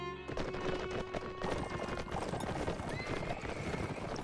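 Hoofbeats of several horses galloping in Mount & Blade: Warband, a dense, steady clip-clop that stays loud and close throughout, with whinnies mixed in and no talking.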